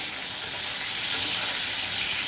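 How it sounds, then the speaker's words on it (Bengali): Pointed gourd (potol) frying in oil in a home kitchen pan, a steady, close, dense sizzle and crackle that holds at an even level throughout with no talking. "এই যে পটল ভাজা হচ্ছে"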